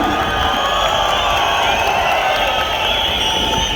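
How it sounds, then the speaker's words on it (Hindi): A large crowd at a corporate event cheers and claps steadily, with shouts and whistles blending into a continuous, loud wash of noise throughout. "एक बार तालियां जोरदार, सीटियां जोरदार"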